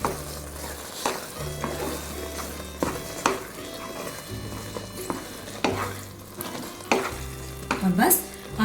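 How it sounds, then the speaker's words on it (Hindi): Semolina halwa with raisins, almonds and pistachios is stirred in a pan, a soft continuous sizzle broken by repeated spoon scrapes and knocks against the metal, with a low background hum and no speech. "इसको अच्छे से हिला देंगे।"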